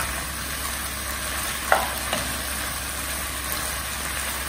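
Paneer, rice noodles and basil stir-fry in a pan with a constant soft sizzle and a couple of brief utensil knocks, heard alone without talk.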